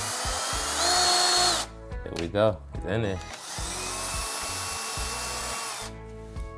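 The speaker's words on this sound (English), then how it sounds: "now let me drill" Power drill boring into wood while building a plant germination station and greenhouse. Two long, loud whirring runs with a brief pause between, and a person talks during the break.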